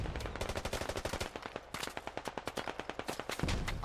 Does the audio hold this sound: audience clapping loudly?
no